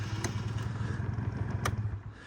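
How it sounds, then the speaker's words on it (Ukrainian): A Honda Dio AF-24 Stand UP scooter from Japan starts and settles into a quiet, close, putt-putting idle, with a couple of sharp clicks over the engine. "Зняли ми з підніжки ставимо на положення ON, це він у нас от, заводиться."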